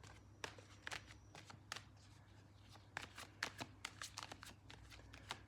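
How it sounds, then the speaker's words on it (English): Crisp bursts of cards being shuffled, a few scattered riffles at first, then a quicker run of flicks and snaps, close and fairly quiet. "Shuffle one more time."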